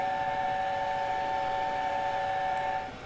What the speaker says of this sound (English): Let's see how long we can whistle this for. Just plug your ears.